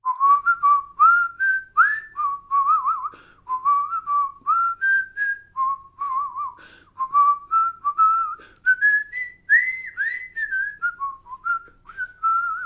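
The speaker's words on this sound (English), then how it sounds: "But are you going to whistle a song for us?" A jazz vocalist whistles a song solo, a steady, close, clear melody of sliding phrases lasting the whole passage with no talking over it.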